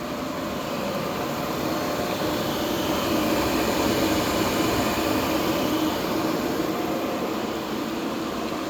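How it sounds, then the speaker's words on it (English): The spindle of an Abene milling machine runs at 500 RPM, producing a steady, even mechanical whir that holds constant with no talk. "I am going to turn the spindle on"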